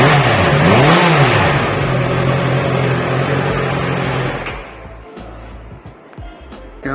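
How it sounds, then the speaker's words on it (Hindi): A 2021 Honda CBR 650R BS6 motorcycle exhaust revving at a walkaround in India, a loud close engine note that climbs and falls through a couple of throttle blips, then cuts back to a quieter idle. "Can I listen to the exhaust?"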